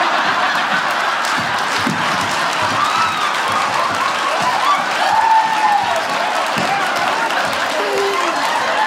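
Audience at a stand-up comedy special applauds with steady, dense clapping and some cheering, fairly loud and sustained from start to finish, with a voice briefly audible.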